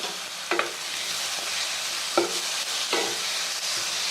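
Chopped tomatoes drop into a pan of onion, garlic and chili frying for a potato curry, giving a steady loud sizzle with a few sharp stirring clinks over the hiss.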